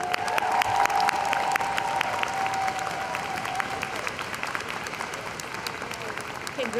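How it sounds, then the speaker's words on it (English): Sustained audience applause fills a graduation ceremony hall as bachelor's candidates at a USC occupational therapy commencement stand. Dense, steady clapping runs throughout, with a faint tone or voice beneath. "let's give them one more round of applause together"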